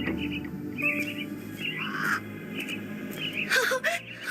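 Caged mynah birds chirp and whistle in bursts in a Sherlock Holmes The Awakened game scene, with bright calls rising over a low ambient hum and a soft voice murmuring faintly in the background.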